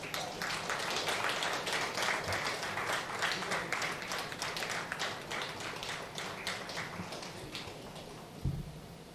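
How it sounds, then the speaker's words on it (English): Audience applause at the Sir J.C. Bose Memorial Award ceremony as Dr. T. Vijay Kumar receives his award, a steady wash of clapping from a large hall crowd that holds fairly constant and fades slightly toward the end. "Let's give him a huge round of applause"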